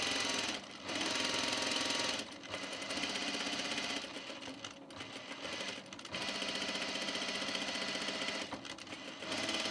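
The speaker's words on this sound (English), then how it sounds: "So I'm just going to add this easing stitch like just under 3/8 of an inch." A sewing machine runs an easing stitch along a men's button-up shirt sleeve at normal stitch length, its rapid motor chatter steady and close in several long runs broken by brief pauses.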